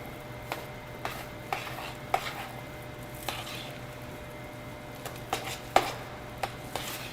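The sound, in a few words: whisking ingredients in a bowl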